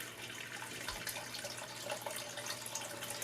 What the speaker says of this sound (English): This is a Burgundy water filter, and it filters out all of our water for us.